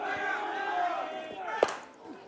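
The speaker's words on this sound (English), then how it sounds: "This has got the crowd going" Crowd at a softball men's club championship grand final in New Zealand cheering and shouting, a sustained roar of many voices with a sharp bang near the end, commentators' talk mixed in.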